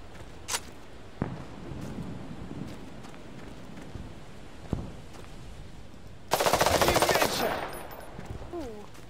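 Gunfire from the video game Fog of War: a few isolated single shots, then a dense, loud burst of automatic fire lasting about a second, over a low background hiss.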